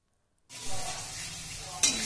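Spices and oil sizzle in a pan while being sautéed for egg and potato curry, starting abruptly after a short silence and then frying steadily at close range, with a brief clink of stirring near the end.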